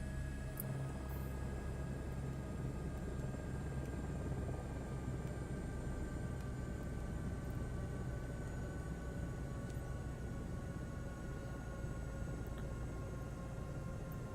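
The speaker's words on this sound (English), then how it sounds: "wait for the rotor to slow down." A video-game helicopter's rotor and engine drone on steadily at a low, even level with a faint high whine, no pitch drop plainly evident, and no talk over it.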